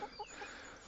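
Chickens in a mobile chicken tractor coop on a grassy no-dig vegetable garden plot, clucking in a few short, soft calls close by over quiet outdoor ambience.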